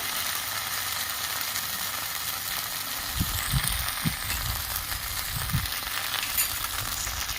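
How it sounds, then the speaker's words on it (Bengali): Fish curry with summer vegetables and small carp sautéing in a pan, a steady hissing sizzle throughout, with a few soft low stirring bumps in the latter half. "ভালো করে কষিয়ে নেব"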